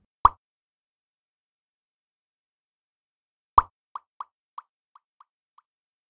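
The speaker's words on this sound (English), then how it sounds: "Kalf Vintage Delay. Syncs to BPM, sounds great" The Calf Vintage Delay plugin is demonstrated on a single sharp plop, which sounds alone. After a pause a second plop follows, trailed by five or six evenly spaced echoes that fade steadily into silence.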